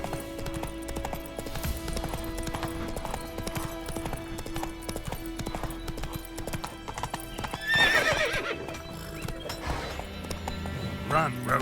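Horse galloping in The Witcher 3 video game, rapid rhythmic hoofbeats running throughout with a whinny, mixed with game sound effects, music and character voices speaking over it.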